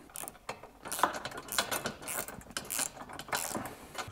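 Ratchet wrench snugging washers and nuts onto bolts for a BMW F30/F31 bucket seat rail install, giving faint, close, quick repeated clicking strokes with no talking.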